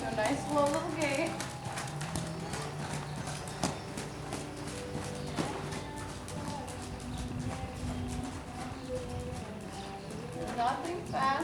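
A Missouri Fox Trotter mare moves at a slow gait in an indoor training area, her hooves giving an even, repeated clip-clop close by, with people talking over it and a bird calling faintly.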